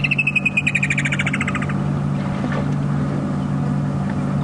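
Wattled starlings fly past a man-made pan on a sunset safari drive, giving a burst of quick chirps over the steady drone of a vehicle engine, with the calls fading after a moment.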